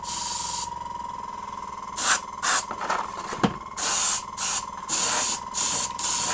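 Bursts of aerosol spray paint hiss in short repeated passes, laying light coats over an orc miniature model, with a steady tone droning beneath and a brief knock midway.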